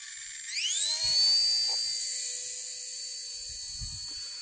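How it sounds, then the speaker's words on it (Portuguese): An RC ERA C032 radio-controlled helicopter spins up and flies nearby, its high motor whine rising sharply then holding steady and loud with faint mechanical rattling throughout, no voices. "a gente está voando aqui com o RC Era C032"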